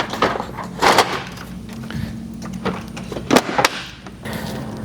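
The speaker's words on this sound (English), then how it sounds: "Now let's get the grill back on the truck." The front grille of a 2025+ Toyota 4Runner being pushed back onto the truck by hand: a close series of uneven plastic knocks, snaps and clicks, with a couple of louder thumps and no talk.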